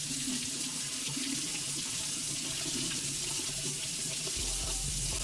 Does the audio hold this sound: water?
yes